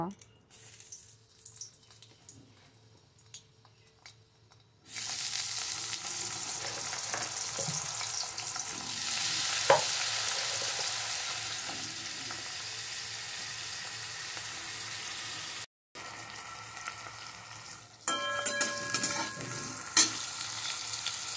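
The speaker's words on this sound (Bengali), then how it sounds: "তেলটা ভালো করে গরম হয়ে গেলে আমি এর মধ্যে কেটে রাখা বেগুনগুলো দিয়ে নেব।" Cut eggplant frying in hot mustard oil for neem-eggplant, a loud steady sizzle that bursts in and holds, briefly cuts out, then returns with stirring scrapes and clinks near the end.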